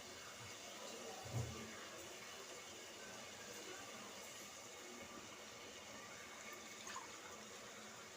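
Water pours steadily into a pot of vegetable biryani, a continuous splashing stream with a couple of soft clunks, fairly quiet and uninterrupted.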